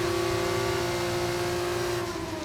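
Formula 1 car racing in the F1 25 video game, a sustained high engine tone that holds steady with a slight dip near the end, alone without voices.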